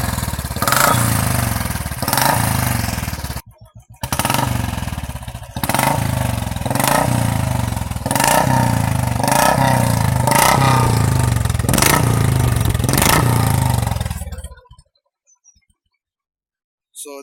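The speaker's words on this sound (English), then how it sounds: "let me show you the exhaust note right now. This is how it sounds in idling." A Royal Enfield-style Classic 350 motorcycle with a shot bottle exhaust revs loudly and repeatedly close by, with sharp throttle blips and a brief dip near four seconds, before cutting to silence near the end.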